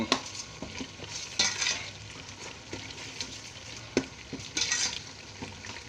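Green curry paste is stir-fried in a pan for Thai green curry with chicken: a soft, steady sizzle broken by repeated scraping and stirring strokes of the utensil, close and quiet, with no voices.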